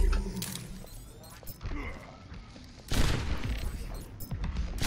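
Rapid bursts of gunfire in the online shooter Overwatch, dense and continuous with a harder, louder burst near the end, mixed with game effects and someone commentating in Thai over it.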